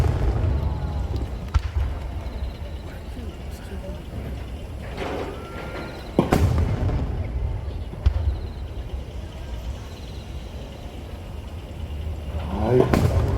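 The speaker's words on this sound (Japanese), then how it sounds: "この花火ご覧いただきました" Distant fireworks shells at the Nagashima Onsen fireworks show burst as a few scattered deep booms, separated by long gaps, over low rumbling ambience and occasional faint voices.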